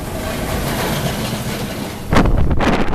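Strong wind buffets the microphone with a loud, rushing roar, gusting harder toward the end.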